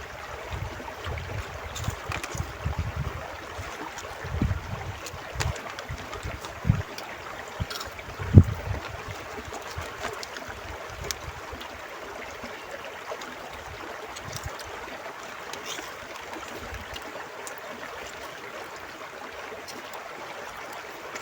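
A river in hot weather flows steadily and softly, with a low watery wash and occasional splashes and bumps near the microphone; no one speaks.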